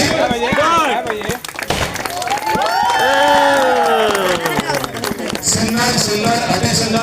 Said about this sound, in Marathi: सगळ्यांनी एकदा जोरात टाळ्या वाजवायच्या, आवाजही करायचा.